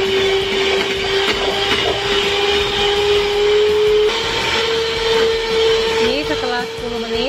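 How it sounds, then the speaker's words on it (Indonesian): Electric mixer running at high speed, beating butter, margarine and powdered sugar for cookie dough, a steady close whirring motor hum that holds throughout and shifts pitch slightly near the end. "Di sini saya mau kocok untuk butter, margarin, dan gula halus. Ini saya mau kocok dengan kecepatan tinggi."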